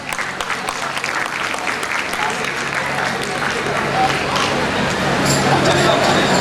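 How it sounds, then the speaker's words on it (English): A crowd applauds the winners at a techno-cultural college festival, with dense, loud clapping that holds steady and builds slightly toward the end, over a faint murmur of voices. "A huge round of applause."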